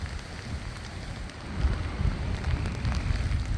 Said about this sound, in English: Alright, I'm getting like, this is pretty heavy rain.